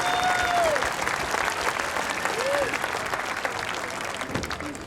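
Steady applause from a crowd at a high school graduation ceremony, for the orchestra, dense clapping filling the room at moderate volume, with a faint voice briefly audible.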